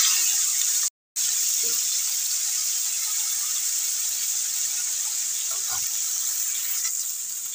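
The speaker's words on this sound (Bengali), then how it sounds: "প্রথমে মাছটাকে ভেজে নিচ্ছি" Fish frying in hot mustard oil in a wok, a steady broadband sizzle running throughout at an even level, with a very brief dropout near the start and a few faint clinks underneath.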